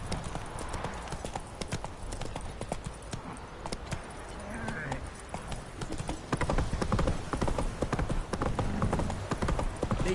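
Roach the horse trotting in The Witcher 3, with a steady rhythmic clip-clop of hooves up close, growing louder toward the end, with a voice speaking over it.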